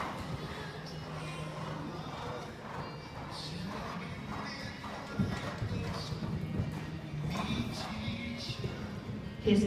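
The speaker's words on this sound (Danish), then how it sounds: "Hesten, der ses på banen nu," Horse hooves thud on a show jumping course in Billund, a soft irregular clip-clop under arena ambience while a commentator speaks in Danish.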